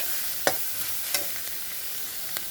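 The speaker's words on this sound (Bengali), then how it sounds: "এখন এই গাজরটাকেও একটু ভালো করে ভেজে নেব" Grated carrots frying lightly in a pan, a steady soft sizzle broken by three sharp scraping stirs of a spatula, close and alone without talk.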